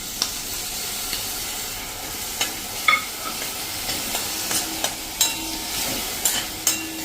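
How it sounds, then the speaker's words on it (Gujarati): Grated tomatoes hit cooked onions in a hot pan, setting off a soft, steady sizzle under scattered clicks and scrapes of a stirring spoon against the metal, with no one speaking. "હવે આપણે જે ટમેટાને ગ્રેટ કર્યા છે એ નાખી દઈએ."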